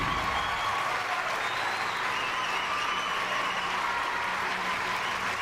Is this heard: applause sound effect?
yes